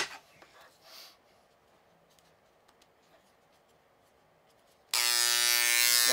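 A Dremel engraver switches on abruptly and runs at a loud, steady buzzing whine, following a stretch of quiet handling noise near a wooden board.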